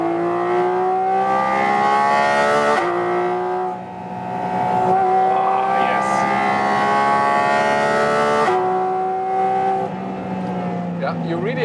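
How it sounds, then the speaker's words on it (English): A Porsche 718 GT4 RS naturally aspirated engine revs hard in its sportiest mode, with rising harmonic tones that climb, drop sharply at gear changes and climb again, loud in the cabin with occasional talking. "I love this naturally aspirated engine."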